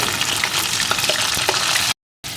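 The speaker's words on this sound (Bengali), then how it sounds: "এখন কুইডাটাকেও আলুর সাথে একটু ভেজে নেব" Malabar spinach stems and potatoes fry in hot oil with a steady, loud sizzle and a few soft stirring clicks, then a short silence before the sizzling returns.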